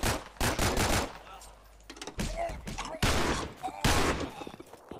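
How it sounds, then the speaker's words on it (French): Rapid automatic gunfire in a video game comes in several loud, close bursts separated by short pauses, with thuds and voices mixed between the volleys. "Oh, ça tire. Ça tire très fort."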